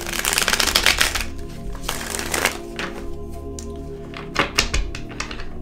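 Crystal Vision tarot cards riffle and slap as they are shuffled by hand, a dense flurry of crisp card noise followed by a few sharper snaps, close and clear with no talking.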